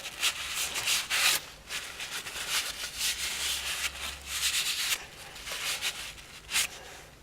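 An old rag rubs a front brake part clean on a 2003 Citroen Xsara Picasso, a series of close, scratchy rubbing strokes in irregular bursts.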